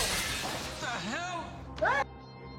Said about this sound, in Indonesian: melemparkan botol ke bagian kaca